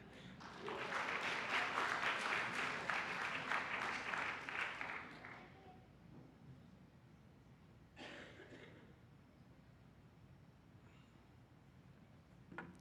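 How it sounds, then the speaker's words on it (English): Loud church audience applause and cheering fills the first few seconds, then fades to a quiet room with a brief burst of noise in the middle. "Let's give one more round of applause."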